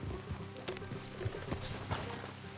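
Horses' hooves clip-clop at a walk in Red Dead Redemption 2, an irregular run of soft, moderately close thuds over a quiet outdoor game backdrop.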